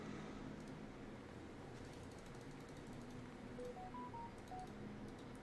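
Phone dialing tones sound inside GTA V roleplay, a quick run of short, distinct beeps at varied pitches over a steady background hum, faint and without speech.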